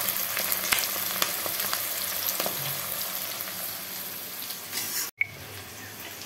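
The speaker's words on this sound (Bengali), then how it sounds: "পেঁয়াজগুলো বাদামি রঙের ভাজা হয়ে গেছে" Sliced onions frying in oil until brown, a dense, even sizzle close by with light stirring, cut off by a brief gap before a quieter sizzle resumes; no one speaks.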